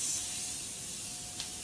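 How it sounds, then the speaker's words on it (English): A short, steady hiss of cooking spray from an aerosol can into a muffin tray, close and continuous for a moment. "a little bit of cooking spray"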